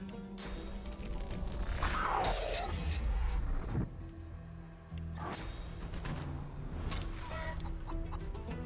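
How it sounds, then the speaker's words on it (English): A chicken clucks repeatedly in Divinity: Original Sin 2, close and fairly loud, mixed with game sound effects and shifting background noise, with no talk. "And now he's a worm. And now he's a chicken."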